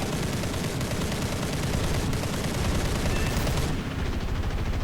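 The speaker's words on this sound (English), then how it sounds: "somebody else is shooting at me" Aircraft gunfire during War Thunder air combat in a Japanese Aichi B7A2 naval torpedo bomber, a dense, continuous, loud rattle of rapid shots over engine roar with no gaps.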